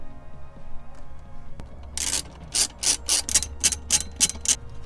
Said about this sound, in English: now we are going to remove the submarine brace with the two 10mm bolts located here